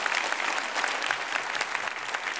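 A church congregation applauding young people back from camp at a Friday worship service, a dense, loud burst of clapping from many hands filling the room evenly throughout.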